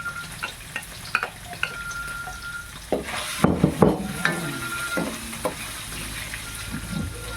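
Garlic and pork sautéing in a pan for a mung bean dish, with steady sizzling and frying throughout, punctuated by the scrape and clatter of a utensil stirring against the pan, busiest in the middle.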